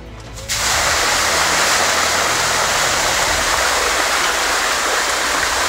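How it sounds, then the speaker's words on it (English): After a brief quiet moment, about 800 gallons of water suddenly pour from an aircraft in roughly four seconds, roaring steadily like a heavy waterfall. "This is gonna be about 800 gallons of water, and you'll be pretty impressed at how fast that comes out of the plane"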